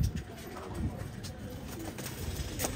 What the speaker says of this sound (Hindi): सेंधा कबूतर की नस्ल होती है ये